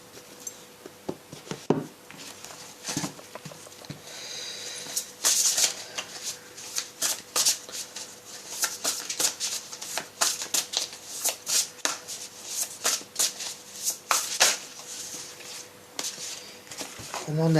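A tarot deck of angel wisdom cards being shuffled, close up, in a long run of crisp riffling and slapping bursts that come fairly steadily while someone talks now and then.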